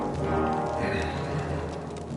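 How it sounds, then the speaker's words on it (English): Horses in the video game Kingdom Come: Deliverance II, with steady hoof clip-clop and a brief whinny set against a dense, continuous game soundscape. "Bring the horses!"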